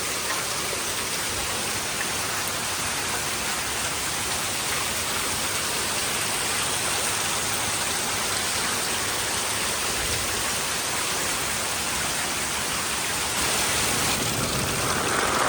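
Steady rain pours down at a Kankrej cow farm, a dense, even hiss that fills the scene without pause and swells a little near the end.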